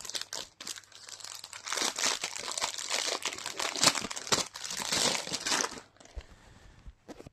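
A paper bag holding wooden pieces is handled while a kit is unboxed, giving continuous close crinkling and rustling for several seconds before it stops.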